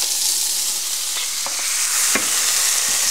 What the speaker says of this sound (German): Jetzt wenden wir es einmal ganz kurz und braten es von der anderen Seite an.